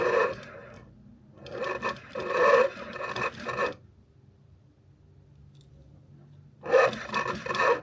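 An industrial sewing machine runs in three short bursts of rasping, buzzing stitching, separated by a quiet pause of a few seconds; it is close and moderately loud, with no talking.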